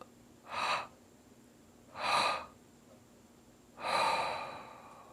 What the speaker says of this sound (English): Let's take one full inhale through the nose if it's comfortable. 3 exhales out.